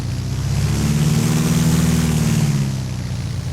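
Beechcraft A36 Bonanza piston engine in X-Plane 10, revving into a loud, steady propeller drone that climbs and holds before easing back slightly, with no voices.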